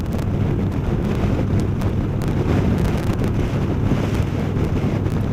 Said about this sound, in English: Wind's wicked.